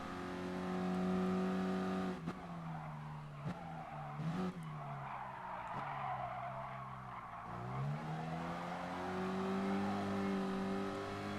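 A Renault Clio Cup race car in the Gran Turismo Sport racing game holds a steady engine drone through the race, with short tire skids and shifts in pitch as it brakes and accelerates, and no talking over it.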